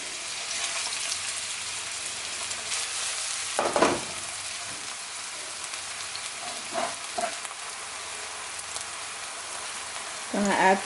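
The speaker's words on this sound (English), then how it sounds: "start sauteing our onions and spices" Onions and spices sautéing on a stovetop for samosa filling, a continuous hissing fry with a few louder bursts of stirring and clatter spaced across the stretch.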